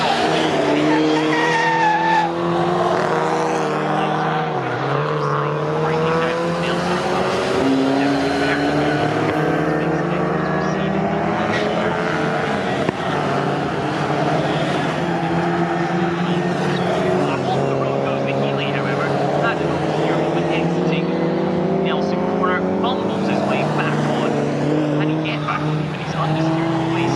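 Race cars at full speed during an Equipe GTS race at Snetterton, with an Alfa Romeo in the field: loud continuous engine roar with rising and falling pitch as cars pass, a commentator talking over it throughout.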